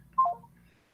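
A single short telephone dialing tone sounds during a call-in on a school board meeting's conference line, brief and moderately loud over a low background hum.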